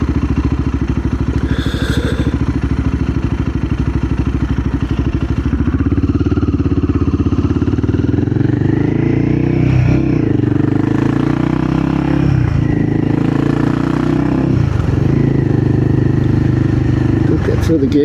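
A Royal Enfield Guerrilla 450 motorcycle engine accelerates through the gears, its steady drone rising in pitch and then dropping at each of several shifts, heard close and loud under wind rush.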